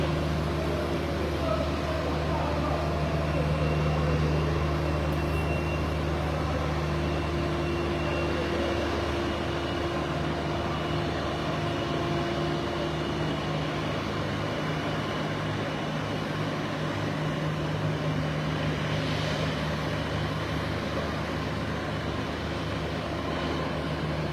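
A presidential aircraft taxis toward the runway at the airport in Addis Ababa, its engines producing a continuous steady roar and hum throughout, with no clear speech over the drone.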